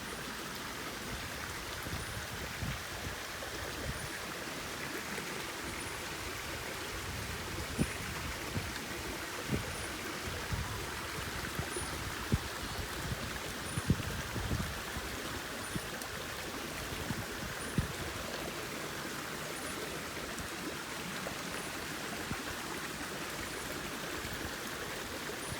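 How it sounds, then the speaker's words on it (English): Wind rushes steadily through the trees at a resort, a constant broadband roar with microphone buffeting and occasional soft bumps, unbroken for the whole stretch with no talking. "the wind through the trees was having a great time with the microphone"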